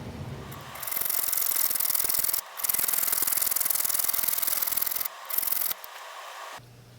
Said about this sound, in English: I've put in one of my sandpaper barrels, and I'm going to go back and clean up the sides and round out those edges a little bit more